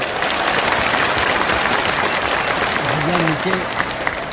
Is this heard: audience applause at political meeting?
yes